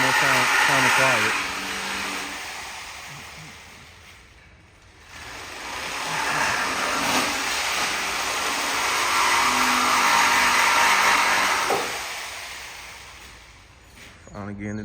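Power cutting tool slicing through the two rear mufflers of a Dodge Challenger SXT, a loud, steady grinding whine in two long bursts separated by a brief pause, with a trailing cut at the end.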